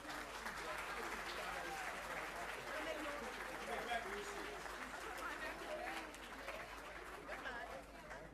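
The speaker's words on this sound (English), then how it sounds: "Give these fine people a round of applause." Audience applause at the 2014 Fairlead Academy II graduation ceremony: sustained, dense clapping from a crowd that holds steady throughout, with voices and chatter mixed in.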